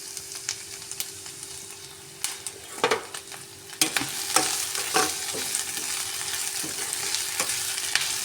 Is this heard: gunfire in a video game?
no